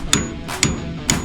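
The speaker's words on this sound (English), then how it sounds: "Make sure you hit that with the hammer first, but make sure that you're not hitting the edges" Three sharp metallic hammer strikes ring out on a bolt of a classic Mercedes-Benz Unimog rear bushing, evenly spaced about half a second apart, close and loud with brief ringing decay.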